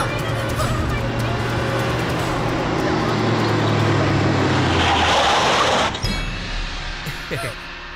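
A car speeds along with a loud, sustained engine and road roar that swells, then cuts off abruptly, followed by a brief squeal and quieter rumble.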